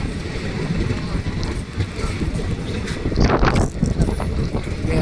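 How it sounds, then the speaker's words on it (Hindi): A train rumbles through Kajipur railway station with rattling, clacking wagons and a rising hiss of noise, a busy, moderately loud station ambience with a brief metallic screech partway through. "तो आप देख सकते हो गाइस ये काजीपुर रेलवे स्टेशन"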